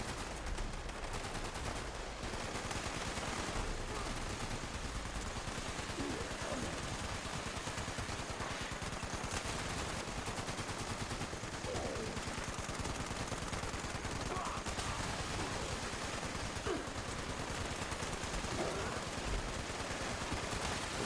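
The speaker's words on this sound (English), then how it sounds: "Gatling laser out. Get him with the Gatling laser." Sustained rapid energy-weapon fire from a Gatling laser in Fallout 76, a dense continuous stream of shots running loud and unbroken throughout with no voices over it.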